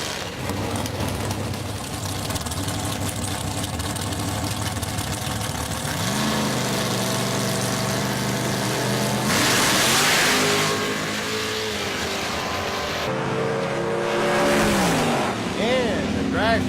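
Drag race between a dragster and a Mercury Cougar at a Big Block Ford event, engines rising in pitch through hard acceleration runs, loud and close, with voices over the racing noise.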